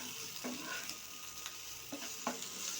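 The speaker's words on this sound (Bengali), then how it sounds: "এইবার আমি এর সঙ্গে আলু দিয়ে আবার ভালো করে আমি কষিয়ে নিব।" Potatoes being stir-fried in a pan for a liver bhuna, with a steady low sizzle and a few scraping stirs of the spatula at irregular moments, close and moderately quiet.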